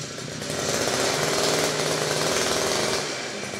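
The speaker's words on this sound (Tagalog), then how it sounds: "ito po yung inyong trolley na grass cutter" A wheeled trolley-style grass cutter runs loud and close, its motor giving a steady buzzing drone that swells slightly midway and then eases.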